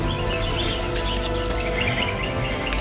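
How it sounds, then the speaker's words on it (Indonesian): Birds sing and chirp among shady forest trees on a hillside trail at about 1395 m, a steady layered chorus under constant broadband ambient noise with no talking. "dan suara burung-burung"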